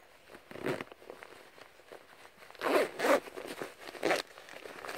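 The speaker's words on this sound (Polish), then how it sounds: "Jeszcze suwak wodoszczelny." A waterproof zipper is pulled closed on a neoprene suit for cold-weather pike fishing, making a series of close, rasping zips in short bursts with brief pauses between pulls.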